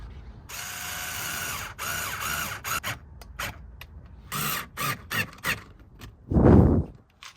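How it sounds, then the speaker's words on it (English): Screws driven into a Ford Fusion door handle with a ratcheting driver, in short bursts of clicking and grinding between pauses, ending with a louder squealing turn, close by and with no talk. "Let's put those screws in now."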